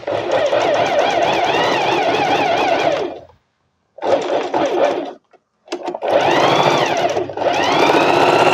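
A sewing machine stitches the folded hem of smocked curtain fabric in loud, steady runs, with two short pauses in between. No one speaks over it.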